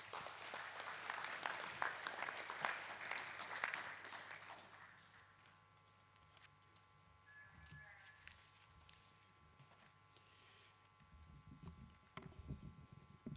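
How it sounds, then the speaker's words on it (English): Conference audience applause at a legal gathering, a dense steady round of clapping for the first few seconds that fades away, followed by quiet room tone and a speaker beginning to talk near the end. "Ladies and gentlemen, another round of applause to our last prominent speaker."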